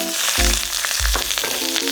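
Green and red peppers hit a wok holding a little leftover oil after pork pieces were deep-fried, bursting into a loud, close sizzle with a couple of heavy thuds and clanks from the pan.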